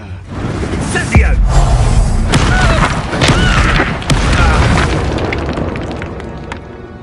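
Fiery spell blasts in Hogwarts Legacy on PlayStation 4 Pro, a deep boom at the start followed by rumbling bursts and crackling impacts over dense combat noise, loud and close, with some speech mixed in.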